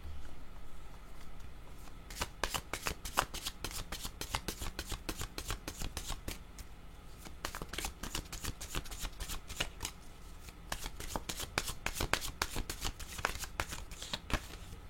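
A deck of playing cards shuffled again and again, with quick papery riffles and crisp flicks in steady bursts, close and fairly quiet, alone without talk.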